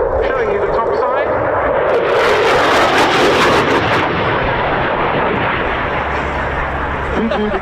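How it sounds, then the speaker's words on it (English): Aerobatic team aircraft at an air show make a fast, loud pass overhead, a roaring jet swell that peaks midway with a harsh crackle and then fades. A commentator talks over the noise. "Aerobatic team. Now a fast pass with a very good photo opportunity."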